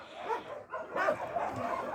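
A dog whimpers and yips softly at close range, a few whiny, rising cries in quick succession.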